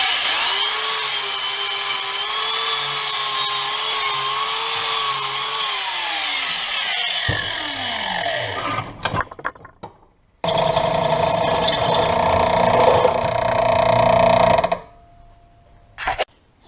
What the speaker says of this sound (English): So now I got all the holes drilled out in it.